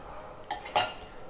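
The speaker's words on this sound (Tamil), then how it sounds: "நல்லா இதை கிளறி" A spoon scrapes and clinks twice against a cooking pot while coconut milk stew is stirred, two short close metallic knocks over quiet background.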